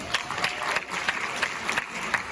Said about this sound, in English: Welcome to the stage, round of applause.